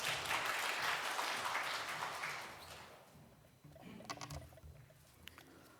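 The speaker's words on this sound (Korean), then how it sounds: "우리 큰 박수로 모시겠습니다." Applause fills a church sanctuary at a Sunday service as the pastor is welcomed, a dense close clatter of clapping that fades after about three seconds into quieter shuffling and a few scattered knocks.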